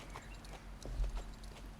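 Appaloosa horse hooves walking in Star Stable Online, soft, quiet clip-clops in a loose, even gait over a low hum, with no talk.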